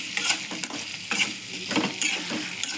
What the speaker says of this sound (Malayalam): ഇനി നമുക്കിത് നന്നായിട്ട് ഇളക്കി കൊടുക്കാം.